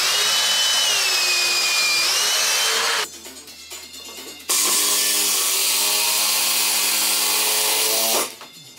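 A power tool drives a big bolt into a wooden stair post, whining loudly and steadily and rising slightly in pitch, then pausing briefly before a second long, strained run that ends abruptly.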